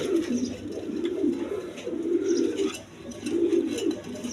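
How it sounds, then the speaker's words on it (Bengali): A pair of magpie pigeons coos nearby in a continuous, pulsing murmur that swells and eases in waves. "এক পেয়ার ম্যাকপাই কবুতর আছে"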